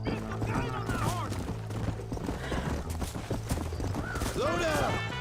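Hooves clip-clop rapidly as a horse gallops in the Western video game Red Dead Redemption, with whinnies, voices talking over the top and occasional sharp bangs in the background.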